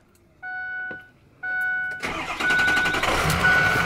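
Two steady electronic chime tones sound, then a pickup truck's engine cranks and catches, settling into a loud, rough idle through a weak-sounding exhaust.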